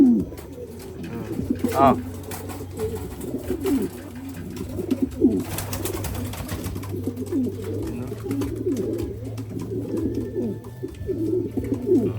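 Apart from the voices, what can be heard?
pigeon cooing, Borga black check pigeon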